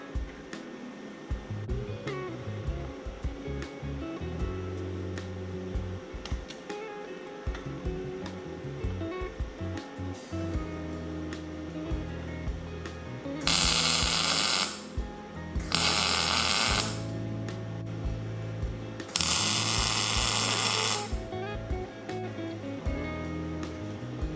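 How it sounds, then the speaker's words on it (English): A MIG welder lays tack welds on a lower oil tank mounting bracket for a Sportster chopper, heard as three loud, crackling bursts of several seconds each, with low, rumbling shop noise between them and no speech. "I'm just gonna come in with the MIG and throw a couple tack welds on that lower bracket."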